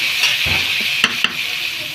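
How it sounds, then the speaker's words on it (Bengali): Onion and chilli fry in leftover fish oil, with a steady bright sizzle and a few sharp clicks of stirring, close and continuous without voices. "একটু পেঁয়াজ আর লঙ্কা দিয়েছি আর এই দেখো একটু মাছের তেল ছিল"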